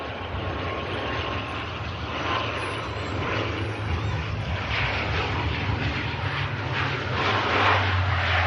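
A Loganair airliner arriving from Aberdeen on a nose-down approach to land at Manchester Airport, its engines a steady broad roar that grows slightly louder as it nears touchdown.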